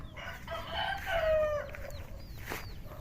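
Chickens cluck and a rooster lets out a crowing call nearby, with a few higher bird chirps over a quiet outdoor background.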